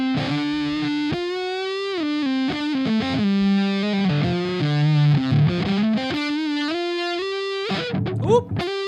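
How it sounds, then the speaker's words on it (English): An electric guitar played through a Harby distortion pedal with volume and distortion all the way up and the tone knob at about 10 o'clock gives sustained, heavily saturated notes and bends, then ends in a burst of choppy strumming. "Found my favorite setting on the Harby. That's volume and distortion all the way up, and that's the tone knob."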